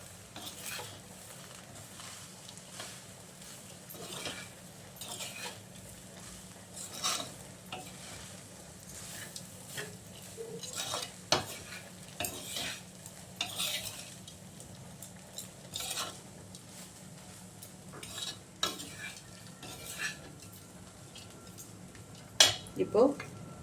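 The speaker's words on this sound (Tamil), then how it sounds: "சாம்பார் பொடியை எப்போவுமே இந்த ஆயிலில் ஒரு பெரட்டினோம்னா அதோட ஃப்ளேவர் வந்து நல்லா என்ஹான்ஸ்" Sambar powder fries in oil for Tanjore thanikootu, a low continuous sizzle broken by repeated spoon scrapes and clinks against the pan, close and fairly quiet, with no talking.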